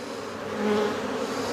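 Honeybees buzzing around a lifted beehive frame, a steady, close, droning hum with no talking.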